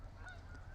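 Faint honking of geese flying overhead, a couple of brief calls heard at a distance over a low, steady background rumble.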